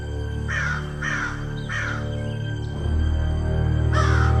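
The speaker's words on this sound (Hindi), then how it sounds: "तो कहीं से एक कौवा आया।" A crow caws four times as a story sound effect, in three evenly spaced harsh calls and then one more after a pause. A steady low drone runs beneath the calls.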